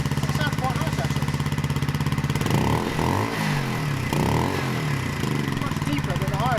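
A Motorini MT125RRi 125cc sports motorcycle engine runs steadily near at hand, with a rough, deep pulsing idle that swells into short revs in the middle before settling back, while a person talks over it.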